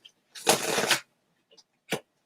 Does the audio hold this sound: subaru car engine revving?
no